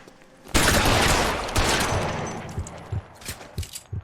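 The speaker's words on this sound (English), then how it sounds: "I did not realize he had a shotgun." Shotgun blast in the video game L.A. Noire, a sudden loud boom with a long decaying roar, followed by a few softer scattered shots or thuds, no speech.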